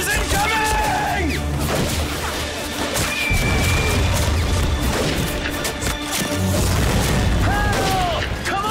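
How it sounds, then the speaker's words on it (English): Mortar shells burst on a beach in a WWII video game, heavy low crashes and rumbling booms layered with gunfire, shouting voices and battle clutter, loud and continuous throughout. "Mortars incoming!"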